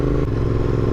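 Royal Enfield Continental GT 650 motorcycle running, a steady, dense low exhaust rumble with a slight clattery edge, close and continuous for a second with no talk.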